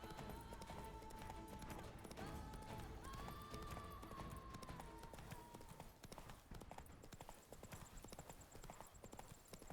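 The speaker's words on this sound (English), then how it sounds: "Run, Roach" Hooves of a galloping horse in The Witcher 3: Wild Hunt clop in a fast, steady rhythm under game music and ambience, loud and continuous, with a brief whinny-like tone midway.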